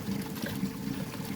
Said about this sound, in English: you slosh this around. What you do is the gold is supposed to settle to